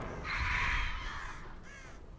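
Birds caw from the Artist killer in the Dead by Daylight video game, a rasping, crow-like cry that swells and then fades over a couple of seconds, heard faintly with no talk.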